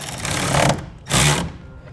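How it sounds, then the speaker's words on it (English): A 9/16 socket on a ratchet tightens a clamp while a BAKFlip G2 hard tonneau cover is set up on a 2017 Ram 3500. Two close bursts of rapid mechanical clicking come with a short pause between them, and no one talks. "I'm going to be using a 9/16 socket to tighten it down."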